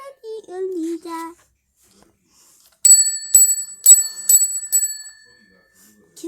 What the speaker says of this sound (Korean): 종소리 울려라